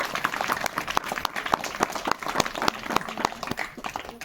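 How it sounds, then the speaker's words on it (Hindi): Devotees at a religious discourse gathering clap loudly, a fairly quick, uneven patter of individual claps from a modest crowd throughout. "तो एक बार इन सभी के लिए जोरदार तालियों का सम्मान देते हैं"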